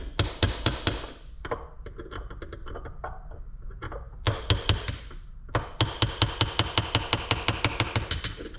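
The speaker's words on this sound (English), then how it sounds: "I want to get this wrist pin out of here, so I'm just going to tap it out." Metal tapping on a wrist pin to drive it out of a Kawasaki KFX400 piston: bursts of sharp, evenly spaced knocks, close and loud, with a short quieter gap of scraping and handling in between.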